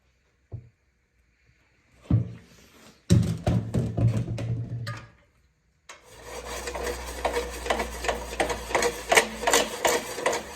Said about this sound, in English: So we're going to throw some gas down the cylinder, give it a pull, and see if it fires up.